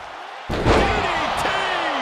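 A hard DDT slam lands in a WWE 2K23 NXT women's wrestling match, a single heavy thud on the mat, followed by a sustained crowd roar and arena noise.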